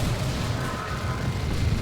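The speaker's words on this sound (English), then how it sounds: "That's a good barrage again." An artillery barrage in Dawn of War 2, a dense run of overlapping booms and bursts pounding continuously at moderate loudness.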